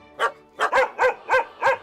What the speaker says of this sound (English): First I want to address the dog in the room.